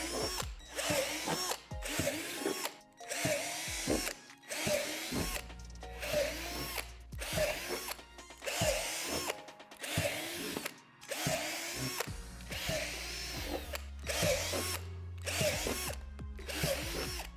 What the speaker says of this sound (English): drill out the 7 divots on each panel with a 3/8 drill bit going from the top down